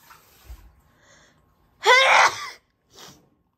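A person sneezes once with a sharp, forceful burst, preceded by quiet breathy sounds and followed by a short, softer sniff or exhale, close to the microphone.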